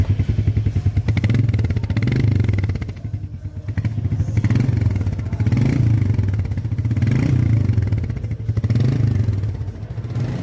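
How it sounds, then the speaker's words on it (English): A Royal Enfield Meteor 350 motorcycle idles close by, a loud steady thumping single-cylinder beat with a slight dip and swell in revs throughout. "let me just start this unit and show you how this sounds"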